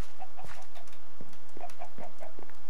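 Chicken clucking in the Minecraft video game, short repeated synthetic clucks in two quick bursts, mixed with game footsteps and soft thuds at a loud, even level.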